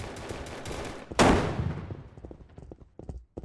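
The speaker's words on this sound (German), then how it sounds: "Ich höre Schüsse, ist schon ein gutes Zeichen." Bursts of rapid automatic gunfire fill a match of the video game Battlefield 2042, a dense volley swelling into a loud blast, then scattered shots trailing off.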